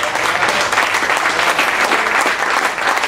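A crowd at a Christmas blues party concert claps again, a short burst of thick, even applause from many hands, loud and steady throughout.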